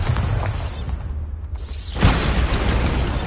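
A Bombarda spell explosion in the video game Hogwarts Legacy: a whooshing build, a brief lull, then a loud booming burst with shattering debris that rolls on to the end.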